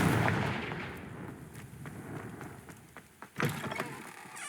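A Confringo blasting spell goes off in Hogwarts Legacy, a fairly quiet burst at the start followed by scattered sharp cracks and a distinct louder explosive pop near the end, all over low background rumble.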